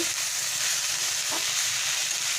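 Pointed gourd and potato pieces sizzle loudly in a hot pan of oil, a continuous close hiss broken by a brief scrape of stirring.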